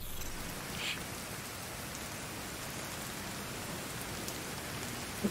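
Steady rainfall in the video game Division 2, a constant even hiss of rain on surfaces, fairly quiet and unbroken, with a brief brighter tick near the start.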